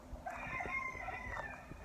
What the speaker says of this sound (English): One ended up being a rooster and one is a little hen